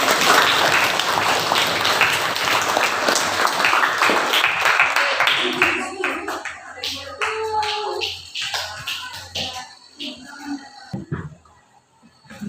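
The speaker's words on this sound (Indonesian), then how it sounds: "Kita kasih aplaus teman-temannya yang bertanya mau." Applause from a classroom of students, loud at first and then thinning into scattered claps and taps until it fades out.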